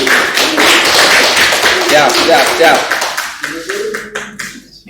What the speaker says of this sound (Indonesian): kita sambut tepuk tangan Bung Robi dan Bung Andi